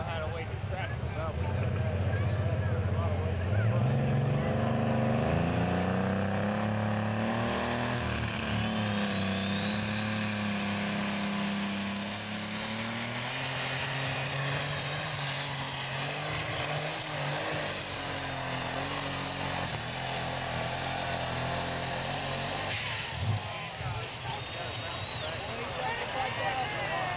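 A super stock pulling tractor engine roars loudly at an outdoor tractor pull, its pitch climbing as it strains down the track and then holding a high, steady whine before easing off near the end, with an announcer talking over it.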